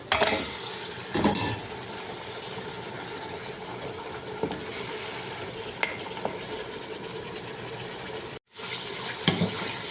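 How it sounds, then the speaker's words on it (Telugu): Tap water runs into a sink while mutton is washed. The flow is a continuous close splash, broken by a few knocks and clatters of handling and one brief cut-out near the end. "ఇప్పుడు మటన్ కడేసేసుకుందాం"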